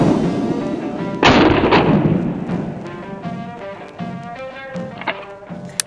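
A Benelli semi-automatic shotgun fires one loud, sharp blast followed by a second report and a ringing decay, then fainter clanks and clicks as the action cycles and the next shell loads.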